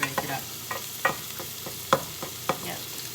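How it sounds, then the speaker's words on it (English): A spatula breaking up an omelette frying in a pan: a low sizzle beneath a series of sharp, irregular scrapes and taps of the spatula against the pan, close and alone. "I'm just gonna use the spatula to break it up."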